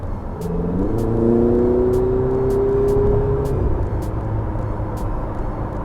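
Ferrari 488 GTB engine heard from inside the car, a smooth tonal drone that rises in pitch, holds steady, then drops back as the gearbox shifts, with faint periodic ticks over it.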